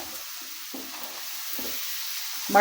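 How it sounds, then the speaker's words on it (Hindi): Peas dropped into a pan of lightly toasted spices for kachori filling, giving a soft sizzle with scattered stirring scrapes and a brief louder clatter near the end. "तो अब यहाँ पर हम डालेंगे मटर"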